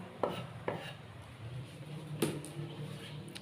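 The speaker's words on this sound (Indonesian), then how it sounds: "Lanjut kita potong-potong bahan yang lain." A knife chops vegetables on a cutting board in a few sharp, spaced knocks, quiet and close, with a soft background hum between strikes.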